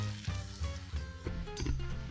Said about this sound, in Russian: Накрываем крышкой и жарим еще 5-7 минут до готовности.